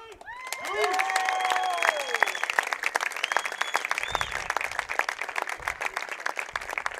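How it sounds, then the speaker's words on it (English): Crowd applause and cheering in the stands at a high school softball game, sustained and moderately loud throughout, with whistles and shouts rising over the clapping early on. "Ladies and gentlemen, a warm round of applause for Jill Dussault."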